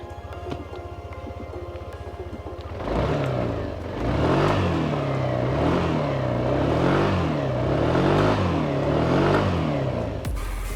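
A Yamaha Aerox 155 maxi-scooter engine starts up close after a quiet idle hum, then revs repeatedly in smooth, even swells before cutting off abruptly.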